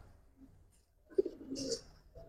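A Jeeragola hen and Army Fade cock pigeon give soft close coos, swelling into a louder throaty burst midway after a quiet start.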